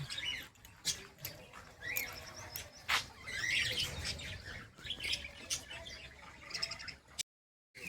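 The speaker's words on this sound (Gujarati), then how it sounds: "આમાં પોપટ છે અલગ અલગ જાતના 3-4 જાતના બધા ચકલા" Parrots of several kinds and sparrows chirp in an aviary at a temple complex, a busy overlapping chorus of tweets and calls with sharp bursts, fairly close, ending in sudden silence.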